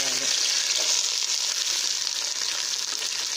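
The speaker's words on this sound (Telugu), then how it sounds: "వీటిని ఒక 2 నిమిషాలు ఫ్రై చేసుకోవాలి." Onions, green chilies and curry leaves frying in a pan, a steady loud crackling sizzle that holds evenly throughout, close by with no voices.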